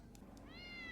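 A cartoon cat gives one short, faint meow that rises at the end, heard after two soft clicks over low background noise.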